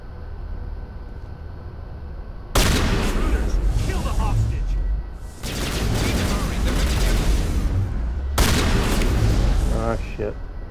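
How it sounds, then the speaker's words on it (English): Heavy gunfire in Mass Effect Legendary Edition on Insanity difficulty, a slow-firing weapon booming in three long, loud bursts of blasts and explosions with gaps between them. "This thing has a very slow rate of fire."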